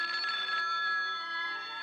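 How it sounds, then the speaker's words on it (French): A telephone bell rings steadily in one continuous electronic trill, moderately loud and heard alone with no voices. "Papa, le téléphone."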